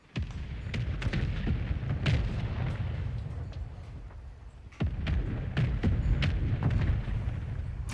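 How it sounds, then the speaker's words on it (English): Mortar strike explosions in Call of Duty Modern Warfare III: a rapid series of sharp booms and blasts, several close and loud, with a heavy impact near the middle and rumbling battlefield noise between them. "Hostile mortar strike in your position."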